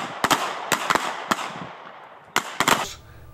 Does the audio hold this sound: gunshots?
yes